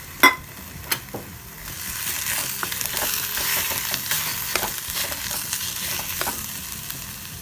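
Pea paste frying in a pan with browned onions, stirred with a spoon that scrapes and knocks against the pan several times over a steady, close sizzle.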